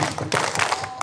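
Children clap together in a quick group rhythm, the 'tepuk semangat' chant clap, at a Ramadan-welcoming mabit gathering, sharp bursts of several claps close and loud.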